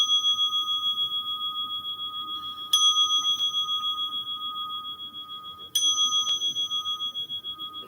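A meditation bell is struck twice, each strike ringing out clear and loud before slowly fading into a long, shimmering tone.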